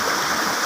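A river stream flows in a steady, close, broadband rush of water, loud and unbroken throughout with no voices.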